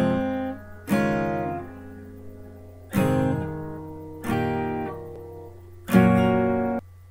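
Acoustic guitar strums the chords of a song, five ringing strummed chords about a second and a half apart, each left to decay, played alone and close up.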